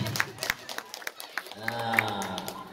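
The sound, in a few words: audience applause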